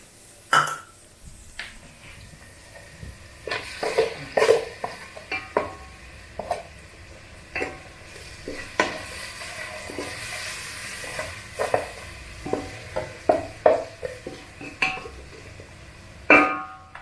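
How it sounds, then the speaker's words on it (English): Onions and tomatoes sauteing in a pot in a Nairobi, Kenya kitchen give a low, steady sizzle, broken by frequent sharp clinks and scrapes of stirring against the pot throughout. "we let those onions saute, soften up, get a little bit of color on them"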